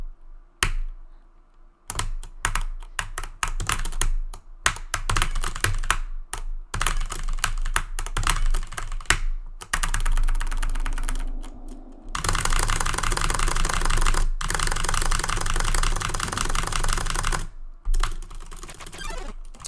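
Continuous typing on a computer keyboard that has double-input problems, with bursts of rapid, close keystrokes broken by short pauses, turning into a dense, steady clatter in the second half.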